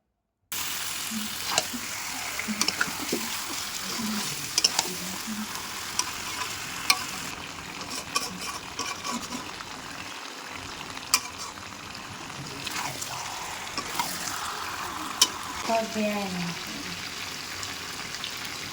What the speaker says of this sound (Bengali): আমি এখানে মিনিট 10 ধরে এখন খুব ভালো করে মাংসটাকে কষাবো।